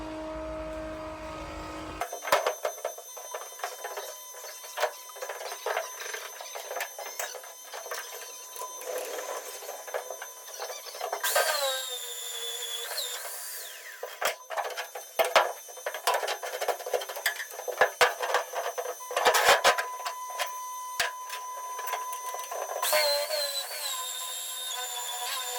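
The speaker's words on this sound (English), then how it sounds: "I'll carry on drilling the holes" A magnetic drill clamped to a steel plate whines and grinds through the steel in several long bursts, stopping and starting again, with rattling and clanking between runs.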